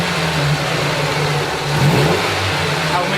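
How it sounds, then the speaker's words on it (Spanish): Car engine being revved up and let back down during a crank and cam sensor check, a close steady mid-pitched engine drone that rises and falls in pitch a few times. "cuando aceleramos y desaceleramos el vehículo"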